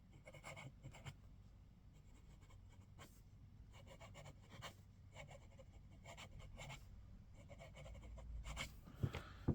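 A Jinhao x850 fountain pen with a fine steel nib scratches quickly across paper in rapid bursts of strokes with short pauses between words, quiet and close, ending with a couple of louder taps.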